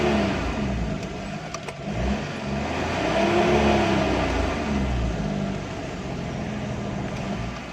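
Suzuki Bolan engine running and revving steadily with the brake held during a clutch check, a continuous mid-pitched motor drone that swells slightly midway and stays close and loud throughout.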